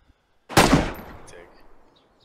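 A loud burst of gunfire in the video game DayZ Standalone, rapid overlapping shots that begin abruptly and then ring out in a fading echoing tail lasting over a second.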